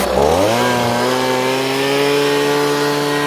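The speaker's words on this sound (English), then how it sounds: "I'm just going to sand the whole top surface." A power sander scuffs the resin-coated top surface of a jon boat floor panel, a loud continuous motor whine that spins up in the first half second and then holds steady alone.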